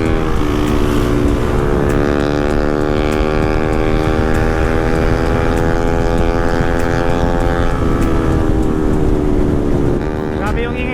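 Acid-project aftermarket exhaust on a Honda CB150R motorcycle, a loud continuous engine drone with steady harmonic tones throughout, pitch dipping slightly near the end, heard close up outdoors at a riders' gathering.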